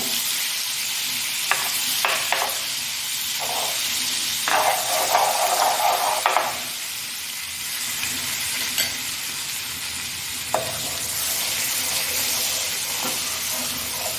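Butter melts and sizzles in a pan on a gas stove for butter garlic mushrooms, a steady close frying hiss with occasional scrapes and clicks of stirring, alone without voices.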